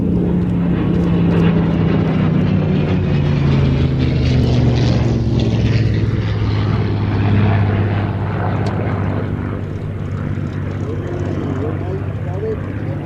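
Propeller aircraft of the Flying Bulls display team make a flypast at an airshow, a loud droning engine roar that sweeps past with falling pitch and then fades. An announcer talks over it.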